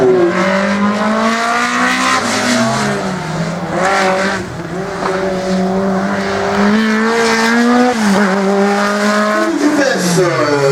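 A race car works a slalom course, its engine revving and shifting through rising and falling pitch up close, with a commentator talking over the loud motor throughout.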